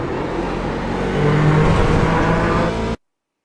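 A Corvette C7 DP prototype race car at Sebring accelerates at full throttle along the straight, a loud steady engine roar building slightly in intensity before cutting off abruptly.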